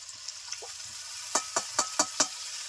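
Ginger garlic paste and tomato paste frying in a pan for katla fish kalia, with a low steady sizzle and about five sharp stirring scrapes close together near the end.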